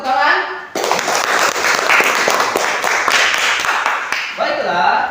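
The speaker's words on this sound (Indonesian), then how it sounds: "Mari kita beri tepuk tangan." A crowd breaks into steady, dense applause that holds for several seconds before tapering, with voices mixed in at the start and end.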